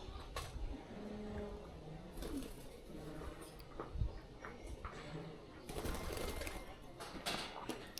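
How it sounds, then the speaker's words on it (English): Birds call intermittently outdoors near an emu and a flock of cheeky parrots, with soft coos and brief bursts of chatter over a rustling background, at moderate distance. "Got an emu. Also got some cheeky parrots"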